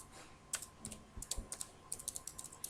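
Keys tapped on a computer keyboard in quick, light, irregular clusters, soft and close, with no voices.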